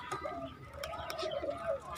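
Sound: pigeons cooing

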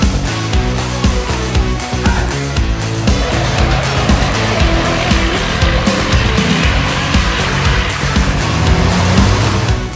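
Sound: racing trucks on track

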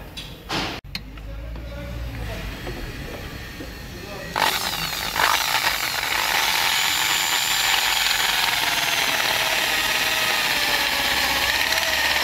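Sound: power tool tapping a thread on Skoda Superb 1.4 TSI engine

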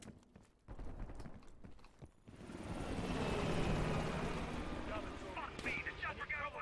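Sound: helicopter flying away in Black Ops Cold War video game

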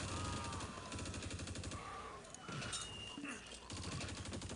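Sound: machine gun fire in the video game Close Combat

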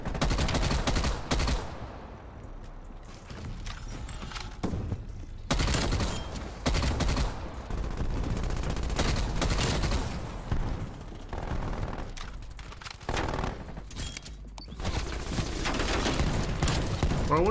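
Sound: gunfire in video game Black Ops Cold War

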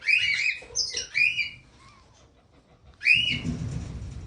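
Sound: birds squawking

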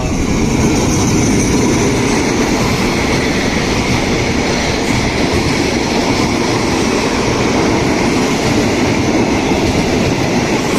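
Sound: passenger train 4133 passing into siding at Bang Nam Priao station

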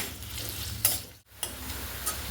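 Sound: onions frying until browned

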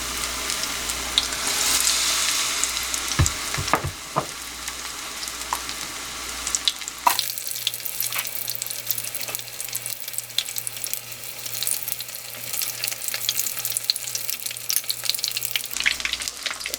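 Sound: deep frying shrimp in oil

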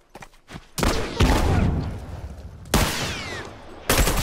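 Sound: rifle gunfire in The Last of Us video game

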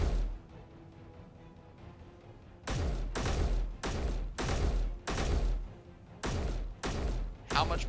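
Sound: rifle firing full magazine at block in Space Engineers video game

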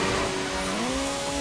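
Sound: Honda Civic EG6 racing in the video game Initial D Extreme Stage

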